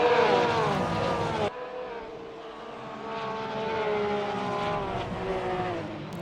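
Race car engines scream past in a circuit race with drifting through a tight chicane, loud harmonic whines rising and falling, one car cutting off abruptly before more engines drone on in the distance.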